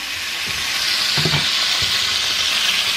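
Pot roast sears in a very hot pan, giving a loud, continuous sizzling hiss with a brief cluster of clinks and a soft thud around the middle, with no talking.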